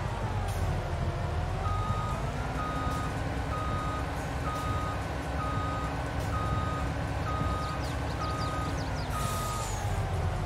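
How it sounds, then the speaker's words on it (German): A truck reverses in Farming Simulator 22, its engine droning steadily while a regular reversing beep repeats through most of the clip, with a brief hiss of air brakes near the start. "Mein LKW ist wieder da."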